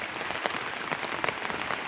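Rain falls steadily on surfaces in a garden plantation, a dense, even patter close by with no voices.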